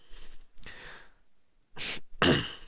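A single close sneeze from someone with a mild cold bursts out sharply near the end, preceded by a couple of breathy sniffs and inhales.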